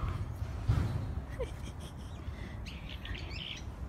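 Small birds chirp and tweet intermittently in an outdoor park, thin and fairly distant over a steady low rumble of ambient noise and occasional faint voices.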